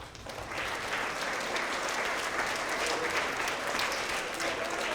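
School award assembly crowd applauding third grade Tigers of the Quarter, a steady, even patter of many hands clapping at moderate volume, heard somewhat distant in a large room.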